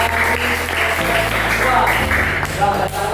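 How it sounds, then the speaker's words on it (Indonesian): Applause from an audience at an academic supervision session, a steady loud clatter of clapping lasting throughout, mixed with a low tonal hum. "Aplaus yang luar biasa"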